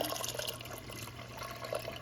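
Water poured into a pressure cooker holding chickpeas: a steady, close, continuous stream of running water with faint drips and no speech.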